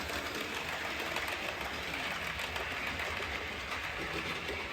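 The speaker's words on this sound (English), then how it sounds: "all I did was said to that train, I want you to go that way, turn around and come back" A model train runs steadily on a home layout, a continuous close, fairly quiet rolling hum and rattle with no pauses across the whole stretch.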